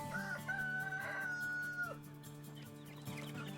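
A rooster on a farm crows once in a long, drawn-out call near the start. The call fades into a quieter background of other farm fowl and livestock, with no talking.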